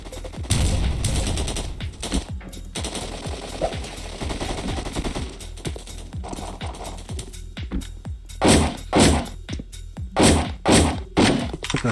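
Gunfire in the blocky shooter game Blockpost: rapid bursts of automatic fire and single shots repeat throughout, close and loud, ending with several heavy, spaced blasts.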